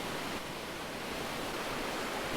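Steady broadband rush of a creek flowing near a ruined sawmill site, a continuous wash of water noise with no pauses, fairly loud and close throughout.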